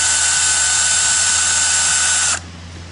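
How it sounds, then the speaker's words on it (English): A power drill whirs loudly and steadily at close range in reverse, backing a screw out of a Tropitone patio chair, for a couple of seconds, then cuts off abruptly. "want to make sure you have your drill in reverse"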